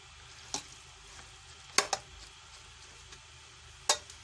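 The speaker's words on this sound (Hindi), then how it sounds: "बस हम इसे 5 मिनट भूनेंगे, फिर हमारे छोले तैयार हो जाएंगे।" Boiled chickpeas (chole) frying in spices in a pan, a low steady sizzle broken by a few sharp scraping taps of a stirring spoon against the pot, close by and with no voices.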